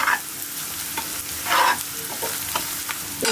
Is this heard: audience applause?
no